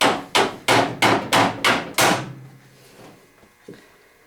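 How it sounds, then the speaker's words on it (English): Putty knife tapped between two metal panels to break a spot weld: seven sharp, evenly spaced metallic knocks, loud and close, then a fading ring and a faint later clunk. "just put your putty knife in between the two pieces of metal and tappa, tappa, tappa"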